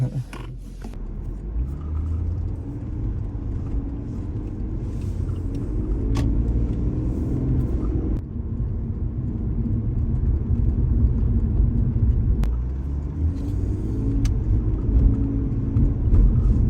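A car cruises along Highway 78 East near Escondido, California, a steady low road rumble and engine drone heard from inside the cabin, unbroken and fairly loud, with brief faint clicks over the continuous hum.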